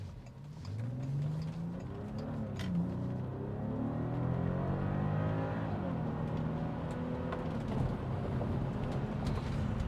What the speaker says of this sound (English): you can hear the engine much, much more than on the Phaeton